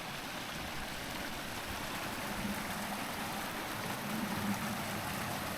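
A steady, soft rush of the River Kinder flowing through ancient woodland continues evenly throughout, low and constant in the background.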